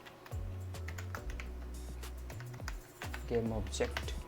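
Rapid typing on a computer keyboard while writing Unity script code, steady clusters of light clicks and key taps close by, with someone speaking over them throughout.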